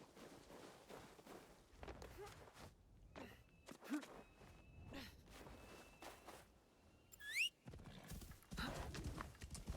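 Horse hooves clip-clop at a walking pace in the video game Assassin's Creed Shadows, interspersed with scattered thuds and a brief high whinny-like squeal, while a voice talks quietly at times.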